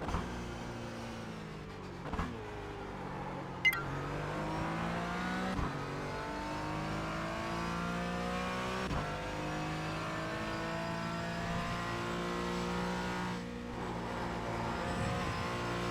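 A race car in the iRacing video game roars through heavy braking and downshifts, engine pitch sweeping down then climbing again with sharp blips at each gear change, loud and continuous with no talk.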